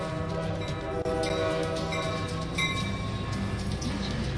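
Train sounds from a video game, with a steady rumbling rail-car drone and a few brief horn-like tones over a busy game soundtrack, continuous and fairly loud.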